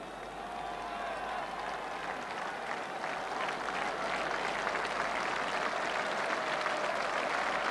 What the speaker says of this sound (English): a standing ovation for this magnificent women's quartet from East Germany